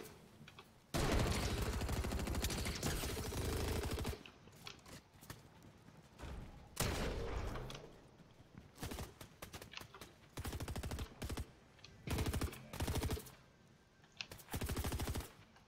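Heavy gunfire in the video game Fortnite comes in long loud automatic bursts and clusters of sharp shots separated by short pauses, close and intense.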